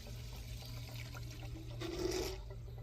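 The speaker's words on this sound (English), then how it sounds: "That is absolutely crazy how fast that is pouring in there." Fuel pouring quickly from a TuffJug gas jug into a tank, a steady liquid rush and gurgle that swells louder toward the end over a low background hum.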